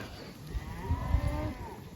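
Cattle in a tightly stocked cow mob grazing on a pond dam low and moo nearby, a drawn-out bellow rising over outdoor wind noise.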